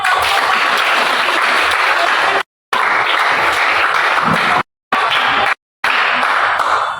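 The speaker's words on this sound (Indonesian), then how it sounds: "kita tepuk tangan buat" An audience claps hands in a classroom or auditorium during a learning-styles session, loud and steady with a dense wash of clapping, broken by several abrupt silent gaps.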